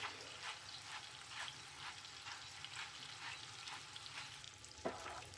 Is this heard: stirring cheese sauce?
yes